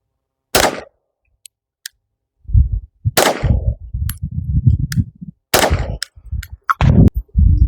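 Three sharp, loud pistol shots fired at a 25-yard target while zeroing a red dot sight, spaced a few seconds apart, with clinks and handling noise in between and no talking.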